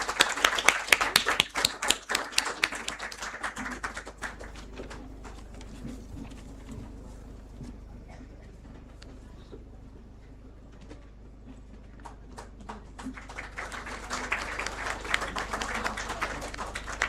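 Scattered clapping from an audience at a moot court prize distribution ceremony, louder at the start, thinning to a lull in the middle, then swelling again toward the end.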